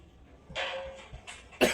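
A man coughs in a few short, harsh bursts, with a final louder cough at the end, close to the listener in an otherwise quiet indoor room.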